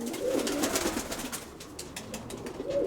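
Pigeons in a dovecote coo in soft, repeated low calls, close by and fairly quiet, with faint wing and shuffling sounds in between.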